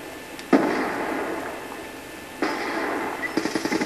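C4 charges detonate in a Black Ops 2 match on Mirage, two sharp, loud bursts each followed by a fading rumble, with a rapid run of crackling pops at the end.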